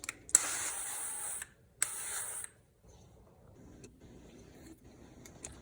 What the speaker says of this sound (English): I'm going to spray this pan with this avocado oil spray from Costco.